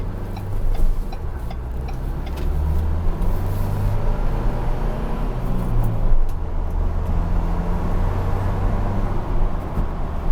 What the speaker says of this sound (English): that sounds pretty nice when you're actually kind of giving it gas and going.